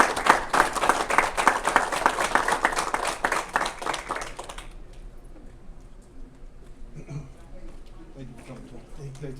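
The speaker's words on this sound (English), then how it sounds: "let's give them a big round of applause for their new facility" Audience applause at a ribbon cutting for a new veterans community center, a burst of steady clapping for several seconds that stops abruptly, followed by quieter room sounds and faint voices.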